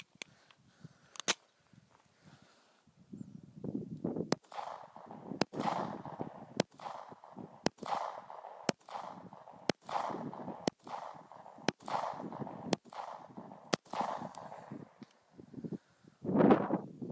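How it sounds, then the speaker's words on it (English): Ten sharp shots from a SCCY CPX 9mm pistol crack out at an even, steady pace outdoors, each report loud and distinct with rustling and low movement between them. "There's 10 through at a reasonable pace."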